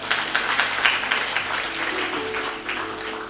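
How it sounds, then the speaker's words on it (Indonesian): Applause fills a church as the congregation claps together, a dense wash of hands with a few louder claps near the start and faint voices mixed underneath, fading slightly toward the end. "Tepuk tangan!"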